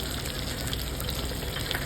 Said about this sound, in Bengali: গরম গরম মাছ ভাজা রুই মাছ